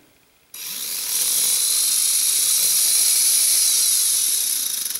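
A WLToys L939 RC car's electric motor whines loudly and steadily close by after a brief quiet start, its high-pitched tone shifting as the throttle varies.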